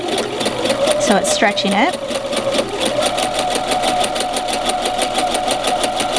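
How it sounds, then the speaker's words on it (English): A sewing machine stitches knit fabric that is held by hand as it feeds, giving a steady, close, fast mechanical whir that runs the whole time while someone talks over it. "So I'm just going to hold my fabric as I'm sewing it."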